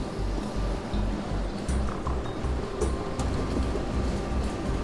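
Waves rolling over a ship in a video game, a steady low surging rush of water with faint intermittent splashes, continuous and fairly quiet.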